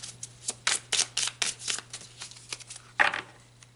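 Tarot cards being shuffled by hand, a quick run of crisp riffling flicks and soft slaps close by, fairly rhythmic, then a short pause and one final snap, with no voices.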